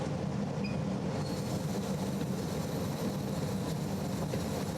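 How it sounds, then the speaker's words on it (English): A lidded spin coater spins photoresist at 3000 rpm, giving a steady, even whirring hum with a faint high tone that appears as it spins up, constant throughout with no talking. "Now I'll cover with this lid and I'll start the spin coating process"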